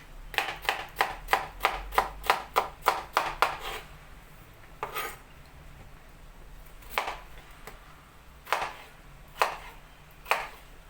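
Knife chopping potato into small sugar-cube-sized pieces on a board: a quick run of about a dozen sharp, evenly spaced cuts, then a pause and a few slower, isolated chops, close and clear with no talking.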